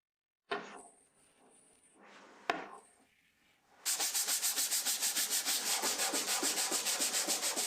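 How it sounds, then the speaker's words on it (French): A wooden cocktail cabinet is scraped and sanded: a few separate rasping strokes with a sharp knock, then a long run of fast, even, rhythmic sanding strokes close up and loud, with no talking. "il a fallu passer au raclage et au ponçage du reste du meuble"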